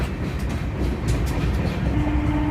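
Inside a train travelling through Kerala, a loud, steady rumble of the wheels on the rails fills the car with faint rhythmic clatter, while a thin whine rises near the end.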